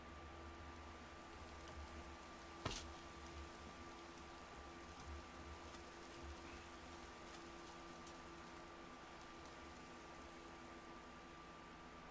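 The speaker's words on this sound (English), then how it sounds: "And it's raining." Rain falling at night in a video game, a soft steady patter of drops on a surface with a faint hiss, low and unchanging, with one brief click partway through.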